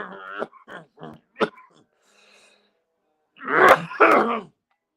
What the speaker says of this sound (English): I made myself cough with that grumpy voice I put on.